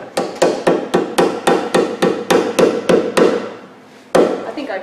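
Sharp, evenly paced hammer blows ring out on a Chevy Malibu lower control arm, about a dozen strikes in quick succession, then a pause and one final hit, loud and close with no talking.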